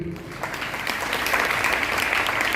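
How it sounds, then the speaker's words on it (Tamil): A church congregation applauds at a Tamil prayer talk, dense steady clapping building slightly over a few seconds, with a faint voice at the very start. "கைத்தட்டு கொடுங்க."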